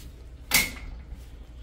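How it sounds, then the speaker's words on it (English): A walk-through baby gate door swings on its hinge, giving one short, faint swish-and-clack near the mic in an otherwise quiet room. "How do you want to swing the door?"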